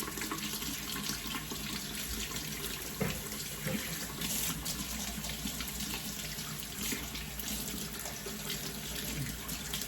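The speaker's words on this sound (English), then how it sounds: "Go ahead and wash your hands." Hands being washed under a running kitchen tap after mixing liver, a steady broadband rush of water with faint splashing, continuous and fairly close with no talking.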